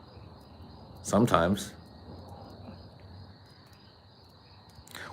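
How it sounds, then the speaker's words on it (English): Frogs chirp outside at night in a thin, continuous high trill that runs the whole time, while someone briefly speaks over it. "Is it just a guy sitting talking to his phone outside while the frogs chirp?"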